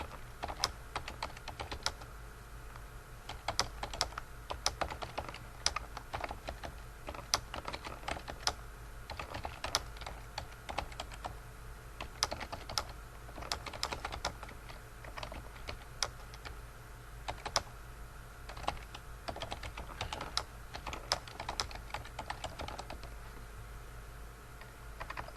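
Quiet, rapid clicking of keys on a computer keyboard, typed in uneven bursts for the whole stretch against a low background hum, with no talk.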